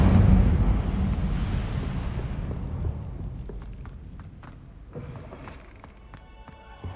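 An Incendio fire spell cast in Hogwarts Legacy: a loud roaring whoosh of flame that bursts at the start and slowly fades, followed by scattered crackles and small thuds as the blaze dies down.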